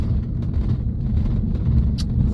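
A Renault Master camper van driving, with a steady low engine and road rumble filling the cabin and a faint click near the end.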